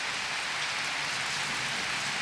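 Steady rain falls continuously in an orchard, a dense even hiss close by with no breaks and no voices.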